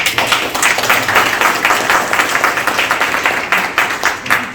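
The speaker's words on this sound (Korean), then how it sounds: "박수 한번 부탁드려요" Clapping audience at a Busan startup investment forum, loud and continuous with distinct individual claps throughout, no voices over it.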